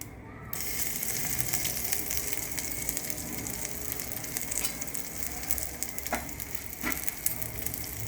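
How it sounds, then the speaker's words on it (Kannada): Mustard seeds and crushed garlic sizzle in hot oil, a steady close frying hiss with faint crackles and a couple of sharper pops, continuous throughout with no talking. "ಸ್ವಲ್ಪ ಸಾಸಿವೆ, ಸ್ವಲ್ಪ ಒಂದು 7ರಿಂದ 8 ಎಸಳು ಬೆಳ್ಳುಳ್ಳಿ ಜಜ್ಜಿದ್ದು ಹಾಕ್ತಾಯಿದ್ದೀನಿ"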